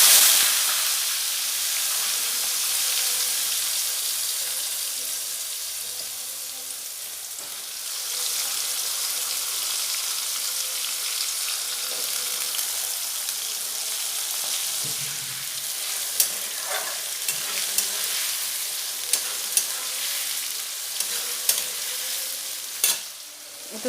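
Potato pieces dropped into hot oil for a vegetarian chana masala fry with a loud, dense hissing sizzle that settles into a steady crackle, with a few sharp ticks and pops near the end.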